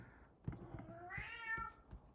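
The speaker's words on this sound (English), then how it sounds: "I hear my kitty saying hello." A pet cat gives a drawn-out, rising-and-falling meow indoors, close and fairly clear, with a few soft taps and clicks around it.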